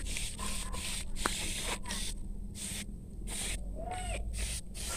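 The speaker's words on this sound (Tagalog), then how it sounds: "mag-spray na tayo yan" Insecticide is sprayed onto string bean and squash plants in short hissing bursts from a sprayer, repeated several times with brief gaps between them, close to the microphone and with no talking.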